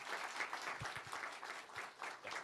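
Faint audience applause in a colloquium hall at the Instituto Cervantes Tokyo, a soft steady patter of many hands, distant and low, with a few low thumps.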